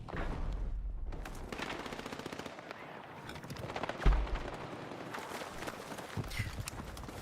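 Shotgun blasts in the video game Battlefield 6, a few sharp booming shots, loudest around the middle, amid scattered gunfire, footsteps and game noise.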